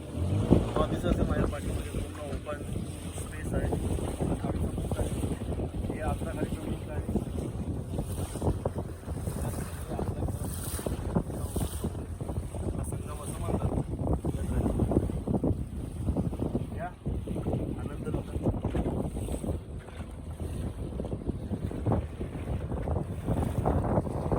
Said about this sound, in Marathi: हळूहळू हवा पण जाणवते त्याच्यामुळे लाटा आता जरा चांगला लागल्या आहे